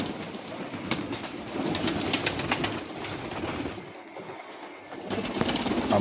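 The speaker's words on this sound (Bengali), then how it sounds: "সবগুলা কবুতর" Pigeons gather for their morning feed, soft cooing and bird sounds over a rumbling background, with occasional fluttering and no voices.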